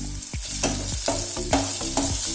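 Onions and crushed garlic fry in a pan, a steady close sizzle broken by repeated scraping stirs about every half second, with no voices.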